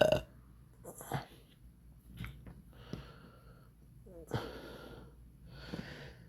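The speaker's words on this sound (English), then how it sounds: "A less than lovely burp" A single close, rough burp rumbles out at the start, followed by quieter breathing and a few scattered short sounds and a person talking.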